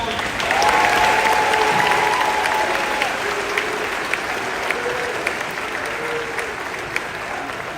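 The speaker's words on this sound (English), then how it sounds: "let's give a round of applause to all the staff and faculty" A graduation ceremony crowd applauds staff and faculty, broad, steady clapping that swells early and gradually thins, with some voices and whistle-like cheers mixed in.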